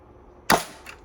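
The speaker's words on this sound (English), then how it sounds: "So let's fire some of this." A toy pump-action shotgun shell blaster, the Battle Axe prototype, fires once with a sharp, loud snap followed by a short rattling decay and a faint second click, with no talking.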